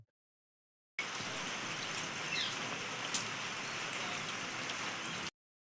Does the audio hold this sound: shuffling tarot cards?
no